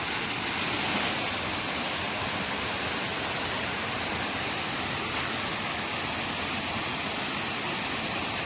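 Darapalli Waterfalls near Kakinada pours with a dense, unbroken roar of rushing water, loud and close, steady throughout with no voices.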